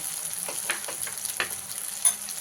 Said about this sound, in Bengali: দিয়ে ভালো করে ভেজে নেব এক চামচ হলুদ এক চামচ জিরে গুঁড়ো